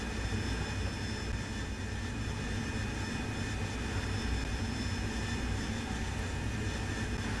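Steady, loud roar of a Harrier jet engine pushed to full throttle in the DCS flight simulator, a continuous broadband rush with a low rumble and faint high whine, constant throughout with no talk.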